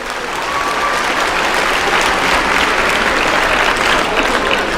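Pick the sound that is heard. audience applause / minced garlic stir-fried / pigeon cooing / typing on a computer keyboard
audience applause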